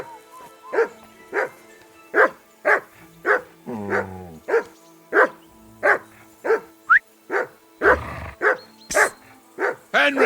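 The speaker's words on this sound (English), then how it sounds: "Call that dog to heel." Dog in Kingdom Come: Deliverance 2 barking repeatedly in a steady rhythm, close and loud, with occasional whines between barks and a brief rustle or thud near the end.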